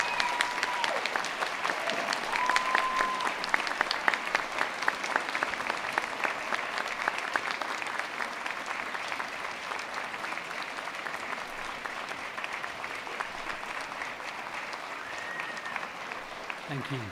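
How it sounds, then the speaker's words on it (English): Sustained applause from a large audience at a winter university graduation ceremony for an arts, media and creative technology school, steady dense clapping throughout with a few brief voices mixed in. "could you give a round of applause to the people all the way around you, here and elsewhere"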